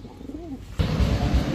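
A soft coo from Budapest pigeons rises and falls early on, then a louder burst of rustling noise takes over for the rest.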